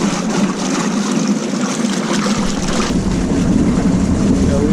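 An electric outboard motor converted from diesel runs at low RPM on a Cape Dory 36 sailboat, a steady close drone with broadband water and wind wash, continuous and fairly loud throughout.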